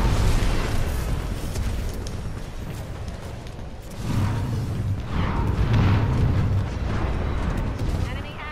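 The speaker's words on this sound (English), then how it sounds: "Throwing a bomb." A thrown bomb explodes in a Titanfall 2 hardpoint match, and a few seconds in the blast brings deep, rumbling bursts that swell over the busy noise of the firefight.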